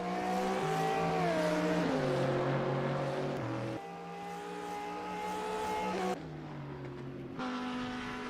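A GT3 race car engine wails on track at Road Atlanta, a loud sustained high-revving note with distinct downshifts and gear changes as the car brakes and accelerates.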